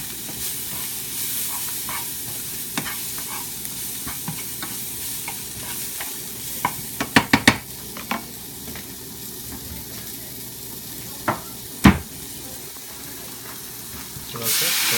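Vegetables being stirred and fried in soy sauce in a pan, a steady soft sizzle and hiss running throughout with a few sharp utensil clinks near the middle and end.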